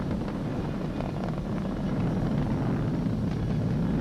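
SpaceX Falcon 9 rocket engines roar during launch while throttled down near maximum dynamic pressure, a dense, steady, loud rumble with no pauses.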